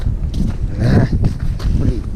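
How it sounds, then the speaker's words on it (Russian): Strong stormy wind gusting on ice during late-March pike fishing with tip-ups, a rough low roar buffeting the microphone steadily for a couple of seconds with slight swells. "Капец, это ветер. Штормовой."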